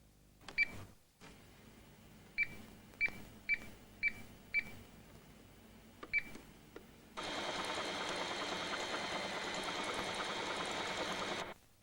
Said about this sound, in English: The MC7000 will stop sewing automatically after the last letter or number.